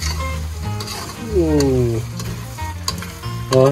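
Bicol Express stirred as it cooks in a pan, a loud sizzle with scraping strokes of a spoon, heard close under bits of overlapping voiced sound with a tonal, whistling quality.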